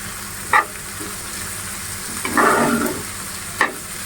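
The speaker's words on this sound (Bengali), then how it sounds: "এখন এই আদা কাঁচামরিচ আর পেঁয়াজটা একটু হালকা ব্রাউন কালার করে ভেজে নিব" Chopped ginger, green chili and onion frying in hot oil for a Bengali fish bharta, a steady close sizzle with a louder burst of crackling midway and brief spatters or stirring scrapes, no talking.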